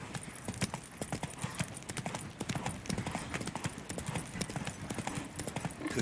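Horse hooves clip-clop steadily at a walking pace across the whole stretch, a continuous run of sharp, close hoofbeats set against ambient game-world background noise in The Witcher 3: Wild Hunt.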